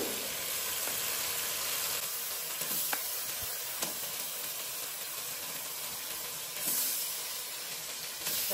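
Pangas fish slides into a pan of hot spiced oil with brinjal, raising a loud, continuous sizzle and hiss that swells briefly, broken by a couple of faint utensil knocks.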